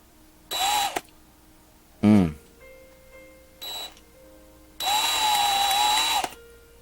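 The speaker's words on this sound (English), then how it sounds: "Ugh, I'm gonna have to drill this." A power drill whines in several bursts drilling into a custom 1/64 scale NASCAR toy car: short runs, a quick revving spin-up, then a longer sustained drilling stretch, close by with no talking.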